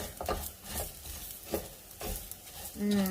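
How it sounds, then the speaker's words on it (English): Fresh onion sautés in hot oil in a pan, with a soft steady sizzle under repeated stirring scrapes and a light clink of utensil on the pan near the end. "I'm going to go in with my fresh onion and just let that saute just for a little bit"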